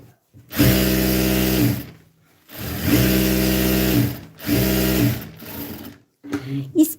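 A sewing machine stitching rubber elastic into pyjamas runs in three loud, steady whirring bursts of about a second each, separated by short pauses, followed by a few brief stuttering stitches.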